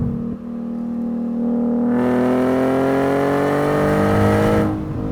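A Nissan 370Z NISMO engine revs up toward 7,000 RPM, its pitch climbing steadily in one long, loud, close pull before dropping off at the end.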